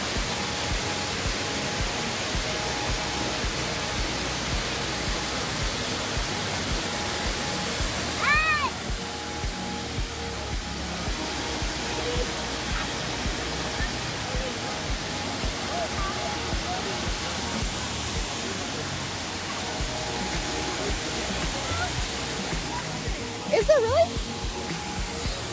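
Bald River Falls waterfall along the Cherohala Skyway: a steady, broad rushing roar of falling water close by, constant throughout, with brief faint voices and a chirp-like sound near the end.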